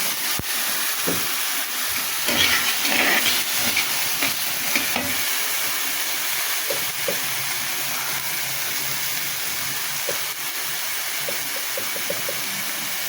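Bay leaf and Kashmiri chili powder fry in a pan as the spice base for a fig curry, a steady close sizzle with intermittent stirring clinks and scrapes throughout, no voices.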